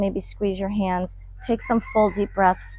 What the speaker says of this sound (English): There's a rooster singing right now.